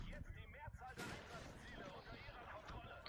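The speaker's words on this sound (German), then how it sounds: "Aber ich höre da schon haufenweise RPGs" RPG launches and explosions in the video game Battlefield 6, with a sharp blast cutting through mid-clip amid continuous battle noise, while players talk over the action.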